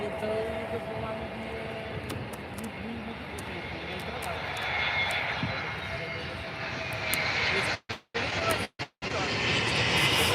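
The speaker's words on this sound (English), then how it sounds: "That's the easyJet A320 Neo." easyJet Airbus A320neo jet airliner at Faro airport, a loud sustained engine roar with broadband rumble and whine, with a few brief dropouts near the end.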